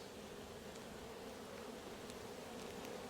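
Honeybees buzz around hives in an apiary during a September inspection, a dense continuous hum close by, steady and fairly soft with no voices.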